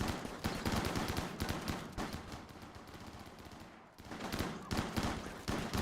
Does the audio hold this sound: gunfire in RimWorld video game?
yes